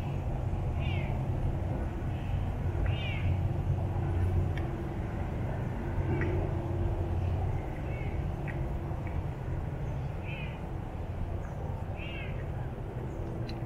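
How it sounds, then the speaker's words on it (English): A caracal at a big cat rescue meows in a string of short, rising calls, repeated about five times at moderate distance over steady outdoor background rumble with a faint passing vehicle. "that meowing you hear"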